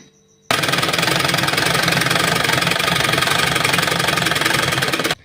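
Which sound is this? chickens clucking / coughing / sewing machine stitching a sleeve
sewing machine stitching a sleeve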